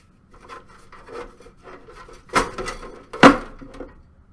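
A PC case side panel is slid off after its thumb screws are removed, giving soft scraping and rubbing with two sharper metallic clunks near the end, close and moderately loud, with no talking.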